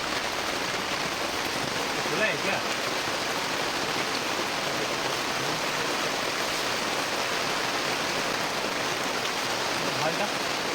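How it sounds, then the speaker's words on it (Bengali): Heavy rain pours down steadily outdoors as a dense, constant hiss that fills the whole clip, with people talking faintly in the background. "এইখানটা জোরে নামতেছে বৃষ্টি"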